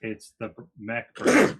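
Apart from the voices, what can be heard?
sneeze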